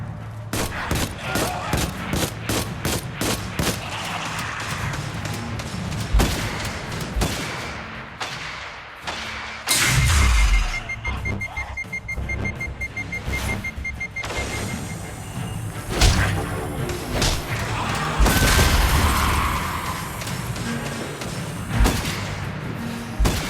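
Gunfire in the video game Destiny Rising rattles in rapid volleys and single shots, with heavy thumps and explosions spread across a long, busy stretch of combat and only occasional voices.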